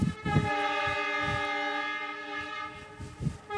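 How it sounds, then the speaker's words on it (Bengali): A diesel locomotive sounds a long, loud horn blast close by while its engine thumps in uneven pulses as it rolls past. "এটা কিন্তু ডিজেল ইঞ্জিন, ইলেকট্রিক ইঞ্জিন নয়। দেখুন চলে গেল ইঞ্জিনটা"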